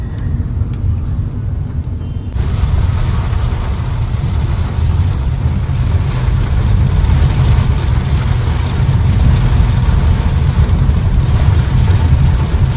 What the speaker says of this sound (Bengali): বিশাল বৃষ্টি হচ্ছে বাইরে